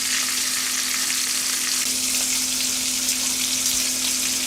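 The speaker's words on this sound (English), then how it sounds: "so let's cook off some bacon" Bacon fries in a pan with a loud, steady sizzle and crackle that holds evenly throughout, close up and with no talking.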